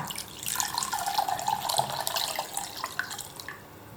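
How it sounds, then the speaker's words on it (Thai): Pickled garlic brine, about 400 ml, being poured into a bowl while mixing a Thai glass noodle salad dressing; a steady splashing, gurgling stream, close and fairly loud, tapering off near the end, no voices. "ใส่น้ำกระเทียมดองลงไป 400 ml ค่ะ"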